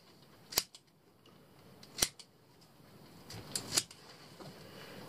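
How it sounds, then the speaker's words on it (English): Scissors snip through the netting at the neck of a homemade lobster and crab pot, three sharp, distinct cuts spaced apart, close and clear against a quiet background. "All you've got to do is cut a hole in the neck here."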